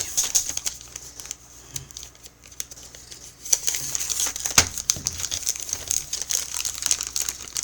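Crinkling and rustling of a plastic package being opened by hand, a steady stream of close, crackly crumples with a few sharper tearing snaps, moderately quiet and with no talk over it.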